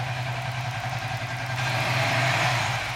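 A Suzuki FU 150 FI motorcycle engine fitted with a GSX 125 injector and a stock fuel pump runs steadily at mid RPM, a close, even buzzing drone that swells slightly louder partway through.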